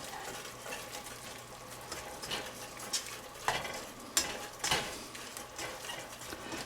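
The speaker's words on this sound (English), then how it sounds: "that juice will sizzle off and the chicken will be nicely flavored" Chicken pieces coated in taco seasoning sizzle steadily in a pan while a utensil scrapes and stirs them in occasional sharp clinks, close and moderately quiet with no talking.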